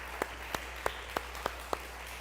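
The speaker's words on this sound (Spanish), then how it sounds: "Dele aplausos al Señor si quiere aplaudirle con todo su corazón." A few slow, separate claps ring out in a church congregation at a Spanish-language fasting service, about six evenly spaced hand claps over a quiet room hum.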